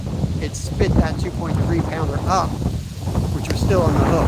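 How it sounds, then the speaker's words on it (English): Wind gusts down a hillside and buffets the microphone in a steady low rumble, under continuous outdoor talk from an angler fishing for Wels catfish. "Sorry about the wind, guys."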